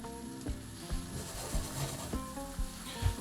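Vegan knafeh cheese sizzles and fries steadily in a non-stick frying pan, a close, continuous crackle with a few soft knocks from stirring.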